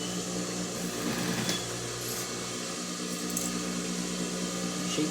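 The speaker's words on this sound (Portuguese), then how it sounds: "Então, bora costurar agora" A sewing machine stitches a cover with a steady, even mechanical hum that runs unbroken throughout, close and moderately loud, with a few faint clicks.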